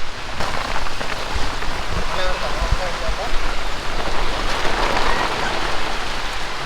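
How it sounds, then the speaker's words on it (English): Heavy rain pours down steadily in Vagamon, a dense, even hiss of drops striking surfaces that fills the whole stretch. A few faint voices can be heard under the downpour. "Full heavy rains now."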